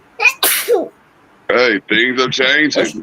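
A sharp, explosive sneeze bursts out near the start, followed by a pause and then someone talking in a casual sports chat.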